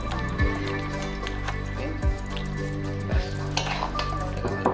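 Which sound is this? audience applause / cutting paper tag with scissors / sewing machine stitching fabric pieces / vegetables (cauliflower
vegetables (cauliflower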